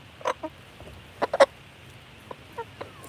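A few backyard chickens give scattered short clucks, close and fairly soft against a quiet background.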